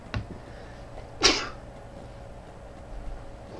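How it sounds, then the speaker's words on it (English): One sharp human sneeze bursts out close and loud in a quiet indoor room, preceded by a faint brief sound and followed by near silence. "Okay, I'm gonna sneeze, hold on."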